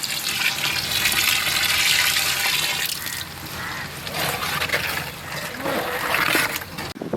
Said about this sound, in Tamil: தேவையான அளவு தண்ணி சேர்த்துக்கொள்வோம்.